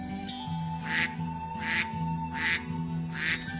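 Ducks inside a duck house give four evenly spaced quacks, close and clear, over a low steady hum.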